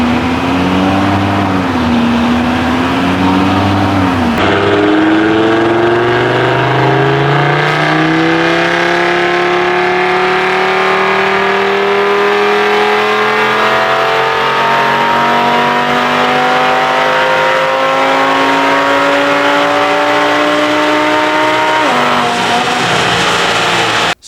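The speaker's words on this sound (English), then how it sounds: "He says he's gonna do a dyno pull in it" An Audi TT RS engine roars at high volume on a dyno, falling briefly after an opening blip and then climbing in one long, steady sweep through the revs before cutting off sharply near the end, with no talking.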